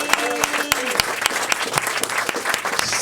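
A large crowd at a 25th-anniversary comedy show applauds loudly for a performer named Steve Roy, a continuous roar of clapping with sharp individual claps standing out and a brief tonal note early on.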